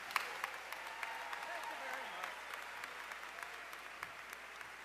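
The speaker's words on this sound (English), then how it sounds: "Let's give a big Convocation cheer for Joel Nichols" An audience at a school convocation applauds and cheers for a broadcasting teacher, a steady wash of clapping with sharp individual claps and scattered whoops from a crowd in a hall.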